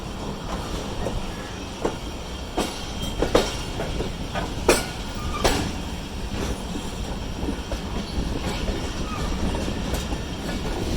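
The 48 Down Rehman Baba Express passing close by, a continuous loud rolling rumble with rhythmic clickety-clack wheel beats and sharp rail clanks over the track.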